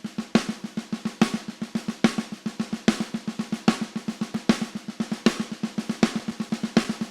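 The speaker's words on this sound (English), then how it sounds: "what he does is he does a paradiddle-diddle." A drum plays a paradiddle-diddle, a six-note sticking pattern, as a fast even stream of sharp strokes with accented beats recurring in a steady cycle, close and alone.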